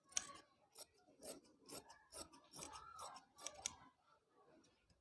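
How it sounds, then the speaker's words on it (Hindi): Scissors cutting suit fabric around the armhole, with a steady series of close, crisp snips and some fabric rustle, a couple of sharper blade clicks and soft handling at the end. "अब यहीं से हमने काट दिया इसको।"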